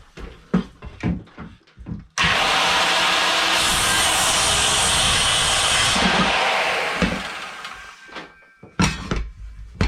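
During a closet remodel, a loud cutting roar mixed with a running shop vac lasts about five seconds, framed by scattered knocks and handling clatter before and after.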